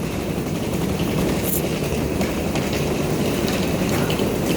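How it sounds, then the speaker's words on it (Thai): A Red Line commuter train rumbles steadily along the tracks near Don Mueang station, a constant low roar with faint rattling, heard from inside or close by, no voices. "สุดท้ายรถนี้รถไฟสายสีแดง"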